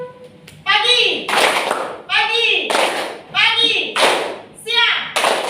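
A group claps hands in a rhythm game, sharp repeated bursts of applause alternating with chanted voices in a steady pattern, loud and close.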